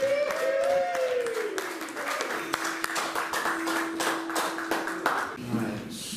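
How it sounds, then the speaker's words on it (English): Scattered audience clapping at a live punk gig featuring a UK Subs frontman, a modest run of hand claps with voices and stray tones underneath, fairly quiet and uneven. "Give a round of applause."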